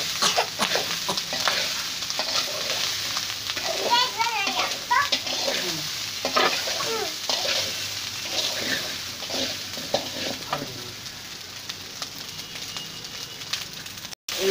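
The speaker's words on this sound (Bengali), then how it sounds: "মানে এটাকে একটু সুন্দর করে ভাজতে হবে" Leftover rice is stirred and fried in a pan, giving a continuous sizzle with repeated scraping and tapping of a spatula, while faint voice-like sounds drift in the background partway through.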